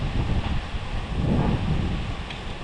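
Strong wind roars steadily against the microphone, a constant low buffeting rumble with no other clear sounds.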